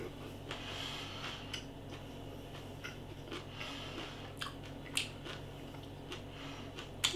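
Crunchy lentil shepherd's pie, a meat-free Bol pie, chewed close to the mic, giving soft repeated crunches and squishy bites over a steady low background hum, with a few sharper clicks near the end.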